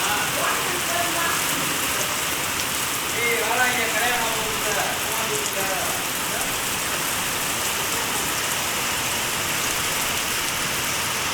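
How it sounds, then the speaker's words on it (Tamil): A steady downpour of heavy summer rain falls across a village, drumming on surfaces nearby. A faint voice briefly rises over the even wash of rain partway through. "சரியான மழைங்க கோடை மழை"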